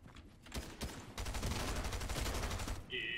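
Rapid gunfire in Fortnite while a player sleds across snowy Frosty Fields, a dense burst of quick repeated shots that starts loose and becomes a steady rapid volley, fairly close and loud, with a short electronic tone at the end.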